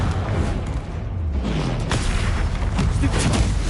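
A Confringo fire spell explosion in the Hogwarts Legacy video game, a dense roaring blast with rumbling booms and crackle that stays loud throughout the short burst.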